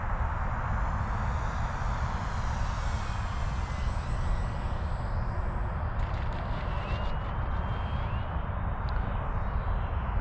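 An FMS P-47 Bonnie 1.5 m RC model plane flies at part throttle, a steady buzzing propeller drone with a faint pitch sweep as it passes and turns, heard continuously without talk.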